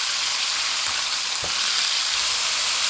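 Pork mince is stir-fried in hot oil with a steady loud crackling hiss, broken by a couple of soft scraping strokes from the turner, and no one speaks.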